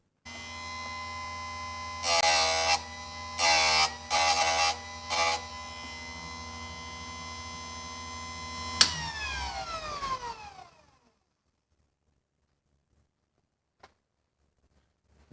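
A grinder sharpens a chainsaw chain, its motor humming steadily while several short, loud grinding bursts cut in. Then the motor spins down and falls silent.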